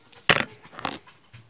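A pet dog at home greeting its returning owner, giving short excited whimpers and breathy pants in a couple of quick bursts, close and fairly soft.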